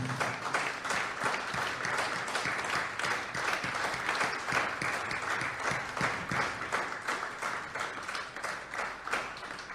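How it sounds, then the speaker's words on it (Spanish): Sustained applause from a crowd, dense rapid clapping that stays loud and steady throughout, with no one talking over it. "El aplauso sea para el Señor."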